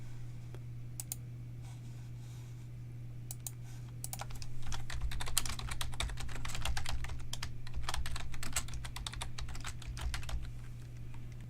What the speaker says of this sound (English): As I click and type